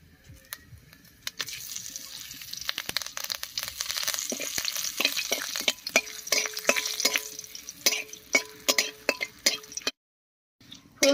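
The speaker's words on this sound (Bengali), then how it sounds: "আর ফোড়ন দেব গোটা জিরা আর তেজপাতা দিয়ে" Whole cumin and bay leaves frying in hot oil, a steady crackling sizzle with sharp spattering pops and stirring clinks that grow louder and sparser before a brief silence.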